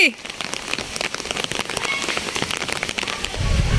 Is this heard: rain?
yes